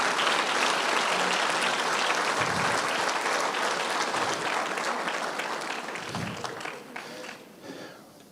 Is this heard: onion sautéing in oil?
no